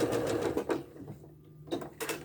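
A sewing machine stitches four-patch quilt blocks, short close bursts of mechanical whirring with a quiet gap in the middle, no talking.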